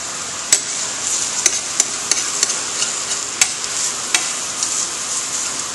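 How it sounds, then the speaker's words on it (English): Sausage browns in a hot pan with a steady bright sizzle. Sharp clicks and scrapes of stirring come now and then, and no one speaks. "while one person is browning the sausage"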